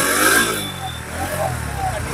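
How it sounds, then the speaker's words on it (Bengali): A used Bajaj Pulsar NS125 motorcycle engine runs after being started, a steady mid-pitched idle heard close by with a slight rise at the start. "একবার স্টার্ট করকে হাম দিখাতে হ্যায়, দেখ লিজিয়ে ইসকা ইঞ্জিন সাউন্ড বহুত হি আচ্ছা হ্যায়"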